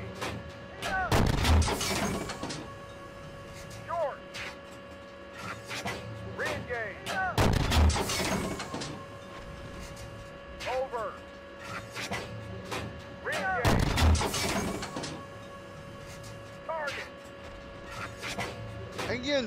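Tank main guns firing on a range in Steel Beasts Pro, with an M1 Abrams among the vehicles: three heavy, booming cannon shots spaced several seconds apart, each with a long rumbling tail, while a voice speaks between them.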